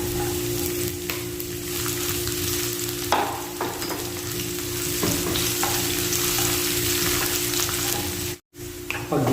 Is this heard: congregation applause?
no